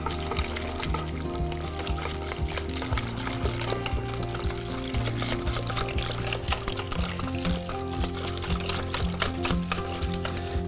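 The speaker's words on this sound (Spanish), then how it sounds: "vamos a irle agregando nuestras 2 tazas de leche poco a poco, mientras batimos de esta manera" Milk poured gradually into cornstarch for champurrado while being whisked, giving a continuous dense liquid rush with rapid clicking whisk strokes throughout, close and steady, with no talk.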